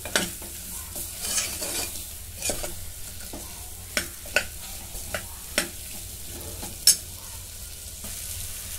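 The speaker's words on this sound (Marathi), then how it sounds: "हा हिरवा वाटाणा. जरा ह्याला परतून घेते." Green peas with potatoes sauté in hot oil in a pressure cooker, giving a steady soft sizzle broken by sharp scrapes and clinks from a stirring spoon at irregular intervals, close by and with no talking.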